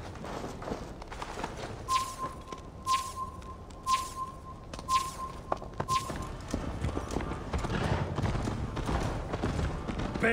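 Horse hooves clip-clop steadily in Assassin's Creed Valhalla, a regular walking rhythm close by under game music and background noise, with brief occasional thuds.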